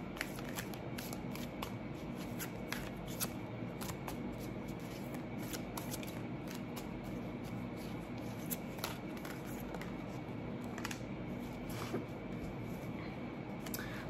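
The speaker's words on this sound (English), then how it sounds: "I'm going to get some more cards here" Tarot cards shuffled continuously at close range, a steady soft papery riffling with small crisp flicks throughout, fairly quiet and without talk.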